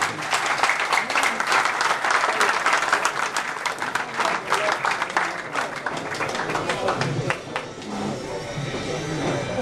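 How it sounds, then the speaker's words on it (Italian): Audience applause at a presentation of the Termoli Calcio football club as the president arrives, many people clapping loudly and continuously, thinning slightly toward the end with a hint of crowd murmur. "io vorrei fargli un grande applauso"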